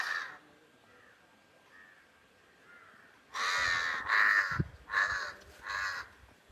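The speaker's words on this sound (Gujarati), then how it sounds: "અહીં કાગડા બોલે છે," Crows caw near a temple in a series of four or five loud, harsh calls after a quiet stretch with a faint tone in the background.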